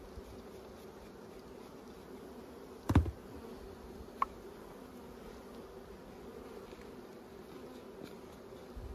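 A faint, steady droning buzz of many honey bees in a jar, about 300 bees in a late-fall sample, continues throughout, with one brief knock partway through.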